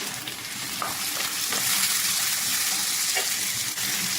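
Tomatoes and green chili sauté in a hot pan with a loud, continuous sizzle, broken by occasional stirring clicks and scrapes close by.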